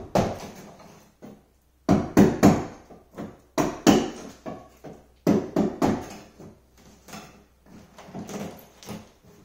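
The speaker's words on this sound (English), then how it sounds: "The reason why I'm using a rubber mallet is because this scraper isn't hard." A rubber mallet strikes a scraper against kitchen cabinets during a renovation, giving bursts of sharp, close knocks in quick clusters separated by brief pauses.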